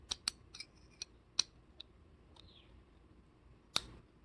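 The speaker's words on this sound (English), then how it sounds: "So once I press it in, I hear a click." A Blum 95-degree blind corner hinge for an outdoor kitchen cabinet pressed into its notch, giving a handful of sharp, close metallic clicks and snaps spaced irregularly, with quiet gaps between them and no talking.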